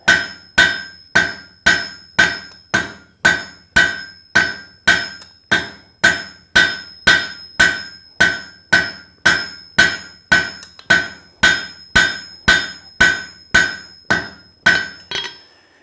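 Regular, loud hammer blows ring out on a quarter-inch steel fork being forged, about two strikes per second in an even rhythm, each with a bright metallic ring that decays before the next, no voices.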